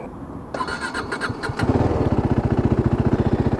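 KTM RC390 motorcycle cranking briefly, then firing up and settling into a close, loud, rapid, even single-cylinder idle with a steady pulsing beat.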